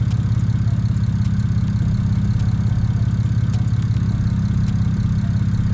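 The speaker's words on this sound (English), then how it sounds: "it's idling way better" A BMW 335i with a single-turbo N54 engine running on E85 idles in a steady, low rumble that goes on without change, with faint ticking and clicking noises scattered over the top.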